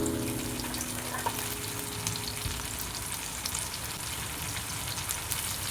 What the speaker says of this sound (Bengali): রসুন আর টমেটো পেঁয়াজের সঙ্গে খানিকক্ষণ ভেজে নেব